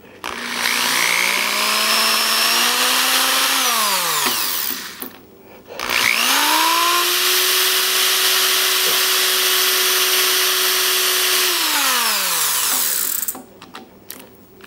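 Drill spinning a bit against the grinding wheel of a cheap Harbor Freight drill bit sharpener, a loud whining motor that rises, holds steady, then winds down, twice, with a short gap between the runs.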